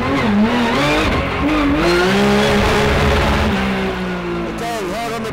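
A race car engine revs high then drops as the driver brakes hard into a tight left-hander at the Race of Champions in Düsseldorf, 2010, tires faintly squealing, with a voice talking over the loud motor.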